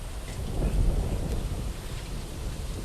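A thunderstorm in a forest brings a low, rumbling roll of thunder over the steady patter of wind-driven rain, brief and close.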